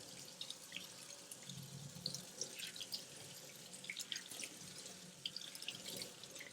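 A rhinestone tumbler cup rinsed under a running faucet, a faint steady hiss of flowing water with scattered small splashes and drips, no talking.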